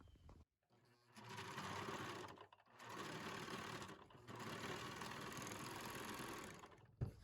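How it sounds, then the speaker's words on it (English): A serger trims and overlocks fabric edges while a corset duster is sewn, its motor whirring loudly and steadily in three long runs separated by brief pauses. "So as we're serging, we're going to try our best to take as little fabric off as possible."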